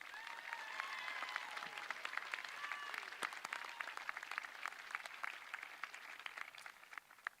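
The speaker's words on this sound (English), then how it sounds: "Give them a round of applause." Sustained applause fills a graduation ceremony, a dense wash of many hands clapping at a distance, fairly quiet and steady with scattered sharper claps and faint voices mixed in.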